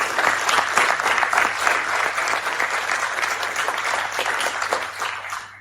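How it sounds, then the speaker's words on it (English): A pub audience at a live comedy show breaks into sustained applause, dense clapping filling the room at steady loudness for several seconds with a low hum underneath. "I think it all be a bit of a round of applause."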